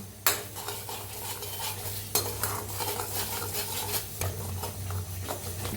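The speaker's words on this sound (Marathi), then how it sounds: "कढीपत्ता हलवून भाजूया आपण।" Curry leaves stirred and frying in a pan, a soft sizzle under frequent scraping spoon strokes and light clinks against the pan, close and moderately quiet with no talk.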